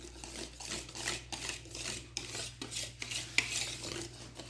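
A whisk or spoon stirring buttermilk, eggs and vanilla into chocolate cake batter in a bowl, with rhythmic scraping strokes and occasional clinks against the bowl, close and fairly quiet over a low background hum.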